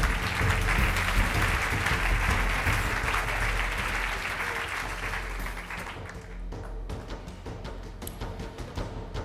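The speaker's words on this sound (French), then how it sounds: "On les applaudit tous les 4." Applause from an audience at an awards ceremony, a sustained clatter of many hands that stays loud for several seconds and then thins into scattered claps before fading.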